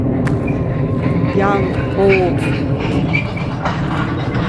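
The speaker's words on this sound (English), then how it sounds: "You'll have to excuse the noise. I have a train right by there." A train rolls past on tracks right beside a Denver cemetery, loud and close with rumbling wheels and brief squeals, while someone talks over it.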